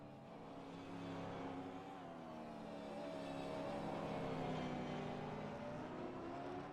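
Gen 3 Supercar racing engine in iRacing at Zandvoort, a steady droning engine note that rises and falls in pitch as the throttle changes, fairly faint and continuous without a break.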